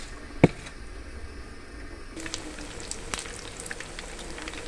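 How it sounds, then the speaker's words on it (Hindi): Potato cutlets frying in a frying pan, giving a soft, even sizzle close by, broken by a few sharp clinks and taps, with no talk. "दूसरी तरफ हमने ये अपने कटलेट जो बाकी थे अपने फ्राई पैन में डाल दिए।"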